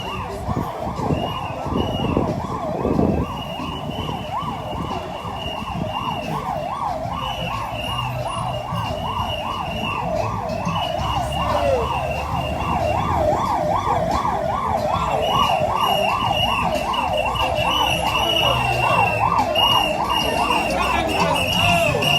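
An ambulance siren wails in a steady rising-and-falling cycle over a busy road crowd, loud and continuous throughout, with faint voices and traffic rumble beneath.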